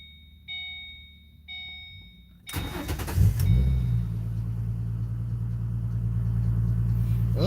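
Ford with a coolant leak: a couple of soft warning chimes sound, then the engine cranks and fires with a loud burst and settles into a steady, close idle rumble.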